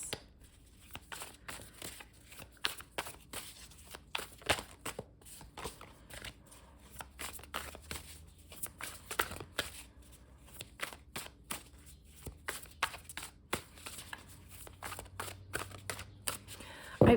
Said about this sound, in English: let's shuffle with a little bit more intention here.